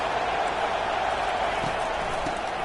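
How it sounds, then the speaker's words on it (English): A stadium crowd in the CFB 25 college football video game swells into a loud, sustained roar of noise as fans try to rattle the offense, a dense, even wall of cheering throughout. "It is getting loud as this crowd tries to help its defense."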